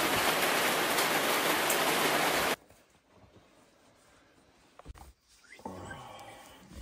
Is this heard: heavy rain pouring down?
yes